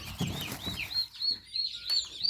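Chickens clucking in a poultry coop, with short repeated clucks and higher chirpy calls near at hand and no talk over them.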